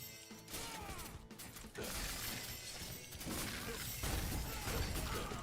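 Bombers exploding in the Dungeon Warfare 3 tower-defence game, with crunchy smashing and mechanical clatter packed into a dense, faint game mix.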